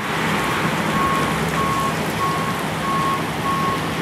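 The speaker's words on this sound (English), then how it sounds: "It is just pouring rain." Heavy pouring rain falls steadily in a city street, a dense continuous hiss close by and loud throughout, with a faint repeating vehicle reversing beep and low traffic rumble beneath.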